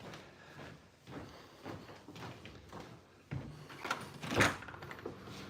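A house door in Florida opens after someone knocks, giving a sudden clunk and then a sharper rattling thud nearby, among quiet room sounds.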